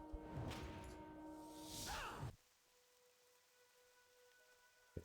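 Rain patters steadily in the fantasy game Turtle WoW, a dense hiss that runs for about two seconds, then cuts to a much quieter ambient hum.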